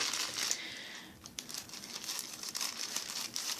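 Crinkling plastic bubble packaging around scissors being handled and pulled open, a steady close rustle with occasional sharper crackles.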